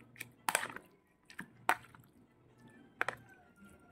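Wet squishing and dripping as pork marinade is mixed with calamansi juice and ground pepper, a handful of soft, irregular squelches close by with quiet gaps between.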